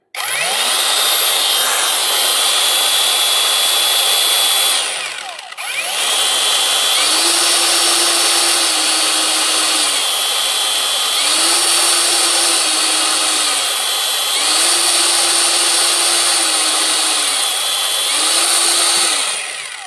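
A repaired Parkside cordless angle grinder runs at full speed with a loud, high, continuous whine. It cuts out briefly near the five-second mark, then spins back up, its pitch stepping up and down slightly several times.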